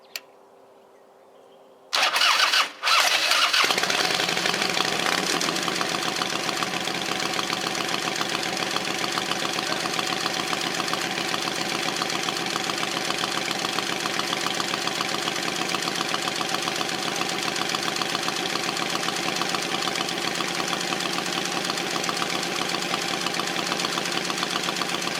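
A Harley-Davidson Softail motorcycle fitted with a new ignition switch cranks and fires after a short silence, then settles into a loud, steady idle that runs on alone without talk.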